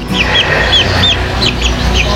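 Ornamental chickens on a poultry farm cluck in short, repeated calls over a steady background hum. Several birds sound close together, and no one speaks.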